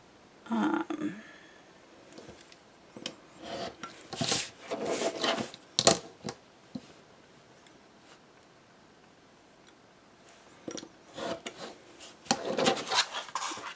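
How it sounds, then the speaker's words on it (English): A craft knife scrapes and cuts through chipboard with a short rasping stroke at the start. Irregular scraping passes and clicks of the blade and ruler on the board follow, with quiet gaps in between. "my craft knife, and cut it at an angle 1/8 inch from the corner of the chipboard"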